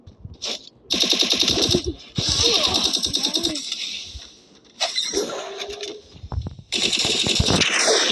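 Video game gunfire rattles out in several rapid automatic bursts separated by short pauses, loud and close, with no speech.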